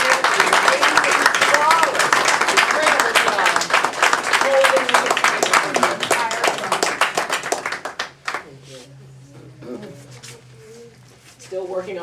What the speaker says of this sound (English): a huge applause for our wonderful Reverend Dr.